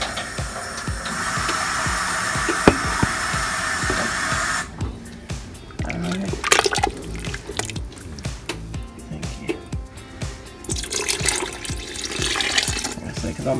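Water poured into a pot of homemade chicken and dumplings soup, a continuous splashing stream for about five seconds, then scattered drips, clatter and stirring sounds.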